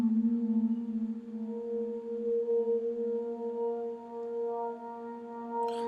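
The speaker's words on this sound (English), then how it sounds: "This pad sounds like this." A sustained synth pad in an Ableton track holds a chord as smooth, layered tones, soft and steady with a slight swell in level and no other sounds.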